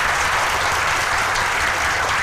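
A large audience claps loudly and continuously at an IAS coaching event in Jaipur, a dense, even wall of applause with no pauses.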